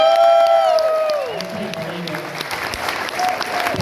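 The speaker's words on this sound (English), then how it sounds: "Thank you for clapping, buddy." An audience at a comedy show at Salt Springs Resort breaks into applause, a wash of clapping heard over a fading tone, with some talking mixed in.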